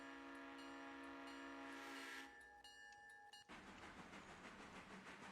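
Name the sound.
passing train with Doppler effect in the video game Railroader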